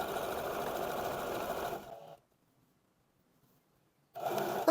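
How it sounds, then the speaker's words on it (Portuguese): A sewing machine runs steadily while stitching a pocket onto wide-leg trousers, then stops for about two seconds of near silence before whirring up again, close and clear. "Agora, aqui na máquina de costura, a gente vai prender o nosso bolso."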